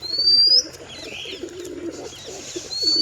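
Pigeons kept in a home loft coo softly in a low, continuous murmur, with occasional higher chirps and a brief rustle at the start; the birds are close and steady throughout.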